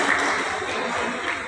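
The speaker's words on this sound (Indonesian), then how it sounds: "Tepuk tangan untuk ibu kita." Audience applause for a teacher at an Islamic boarding school gathering, a dense steady wash of clapping filling the room for its whole short span.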